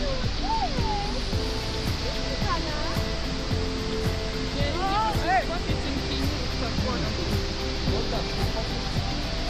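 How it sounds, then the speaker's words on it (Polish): The Ouzoud waterfalls in Morocco, the highest falls in North Africa at about 110 m, roar as a dense, steady rush of water beneath voices talking and occasional bird calls. "Wodospady Uzut położone w prowincji Azital w Maroku to najwyższe wodospady w północnej Afryce"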